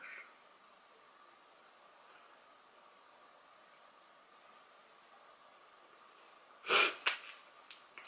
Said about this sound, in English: I keep sniffing.